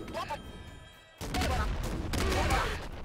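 A grenade shotgun in Nuclear Throne fires in a burst of booming shots and explosions, loud and close. Electronic game music plays underneath, and a voice talks over parts of it.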